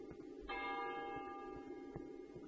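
Church bells toll in the horror video game Cry of Fear, a single strong, ringing strike with long sustained overtones that slowly decay, plus a fainter second stroke near the end.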